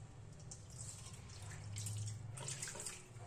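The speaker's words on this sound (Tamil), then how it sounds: "இந்த மாதிரி மூடியில் கொஞ்சம் ஊற்றிக்கலாம்." A small amount of liquid is poured into a bottle cap, a brief trickling splash that swells slightly midway, faint and close with no talk.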